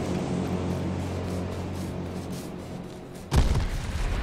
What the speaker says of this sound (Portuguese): Olha a bomba, sai daí, Borba!